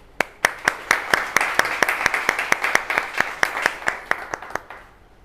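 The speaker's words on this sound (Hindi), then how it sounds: "तालियाँ बजाएँ" A gathered audience at a workplace talk claps together in steady, sharp, evenly spaced beats. The applause is close and fairly loud and carries on for several seconds with no speech over it.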